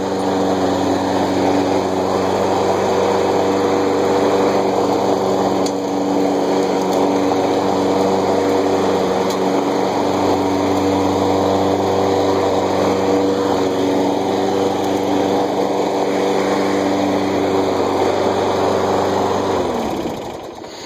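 A Toro Personal Pace push lawn mower engine runs loud and steady at close range for about twenty seconds, then drops off as it cuts out at the end.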